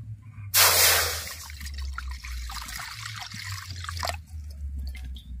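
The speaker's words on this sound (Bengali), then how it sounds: "রাঙা আলু সেদ্ধ করার জন্য কড়ার মধ্যে জল দিয়ে দেব।" Water poured from a vessel into a wok for boiling sweet potatoes splashes in abruptly, then settles into a bubbling trickle for several seconds and stops with a brief final splash, over a low kitchen hum.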